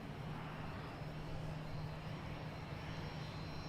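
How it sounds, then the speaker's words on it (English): A Cessna 560 Citation Ultra business jet at DFW Airport, heard as a faint, steady engine roar with a low hum, distant and unchanging over a few seconds, with no voices. "It's a Cessna 560 Citation Ultra"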